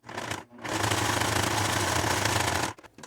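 A sewing machine stitches an edge finish along the border of a piece of fabric, running as one steady, loud mechanical buzz for about two seconds, starting and stopping abruptly with no talking.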